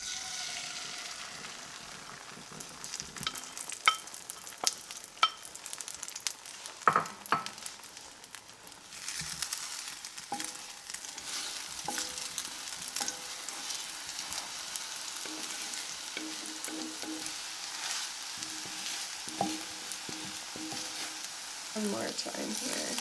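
Reconstituted freeze-dried egg sizzles and fries in a hot pan, a steady crackling hiss punctuated by scraping and stirring clicks from a utensil, continuing throughout at moderate volume.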